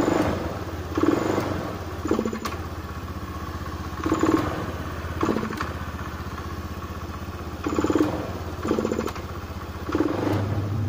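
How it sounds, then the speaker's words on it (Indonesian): A Honda Beat FI scooter engine with low fuel pressure, idling roughly and surging in repeated short revs that stumble and sputter, close and moderately loud, with no talk. "seperti telat bensin ya, dan kayak berebet gitu"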